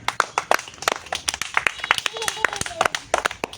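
An audience at a village fun game, where players kick a ball into a drum, claps for a contestant. Sharp, dense, uneven claps ring out close and loud throughout, with a few faint whistle-like tones mixed in.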